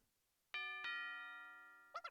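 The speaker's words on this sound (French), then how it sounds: "Ding dong." A two-note ding-dong doorbell chime rings out clearly in the video game Miitopia, each tone ringing on and slowly fading, followed by a brief soft jingle at the end.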